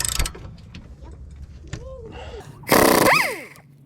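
A wrench works loose the sway bar end link on a Honda Civic, clicking and ratcheting in short bursts with a clunk and metallic squeaks, followed by a loud burst near the end.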